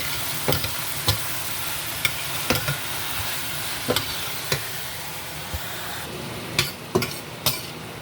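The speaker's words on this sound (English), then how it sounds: "So I'm going to go ahead and add my saltfish. Alright. Stir it up." Saltfish fries in a pan with a constant loud sizzle, while a spoon scrapes and knocks against the pan in irregular stirring strokes.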